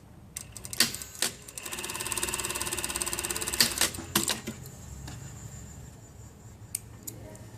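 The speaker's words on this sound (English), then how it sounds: "So I'm just going to sew that at 1 centimetre." Sewing machine stitching the centre back seam of a shawl collar with a 1 cm seam allowance, a few clicks, then a steady rapid stitching run of about two seconds followed by scattered handling clicks and knocks.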